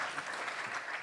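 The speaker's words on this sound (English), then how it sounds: "That's your applause that's going to come." Audience applause at a panel discussion on the global right and liberal democracy, a brief even wash of clapping from a crowd.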